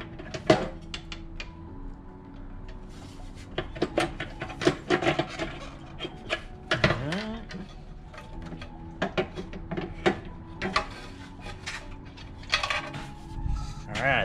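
Work on a Coleman CT200U-EX minibike as its gas tank comes off: scattered metallic clinks, knocks and rattles of bolts and tools, close and fairly quiet.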